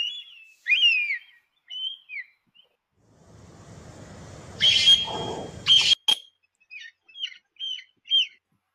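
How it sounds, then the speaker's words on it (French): AI-generated eagle cries come as a string of short, shrill, whistling calls, broken midway by a brief rush of noise, then more high calls spaced apart. "J'ai arrêté le bruit des aigles pour arrêter de vous casser les oreilles."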